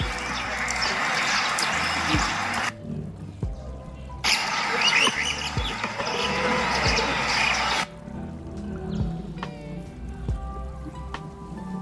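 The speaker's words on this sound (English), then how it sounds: "you will hear a lot of birds chirping in the background." Birds chirping repeatedly in the background in Hong Kong, with bursts of broadband noise coming and going over the calls.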